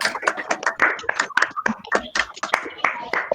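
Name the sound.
audience applause after a talk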